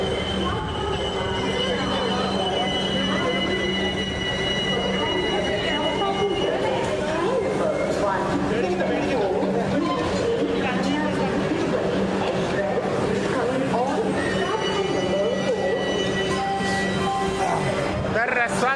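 The Kanyakumari Express (16381) pulls into Tirupati station, where construction is under way, and comes to a halt. A continuous rail rumble and squealing wheels run throughout, with voices and platform chatter over them.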